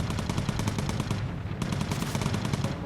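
Machine gun fire in the video game Bomber Crew, a loud continuous rapid burst of rattling shots that briefly thins for a moment before resuming at full intensity.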